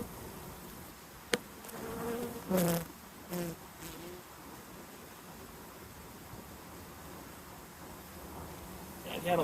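Honey bees swarm densely around a hive as supers are added, a faint continuous buzzing with a few louder close passes of individual bees near the listener, and quiet talk in places.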